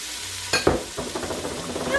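Mixed vegetables tossed into a hot pan with chicken for a mushroom fettuccini, landing with a quick clatter and then a steady, moderate sizzle of frying.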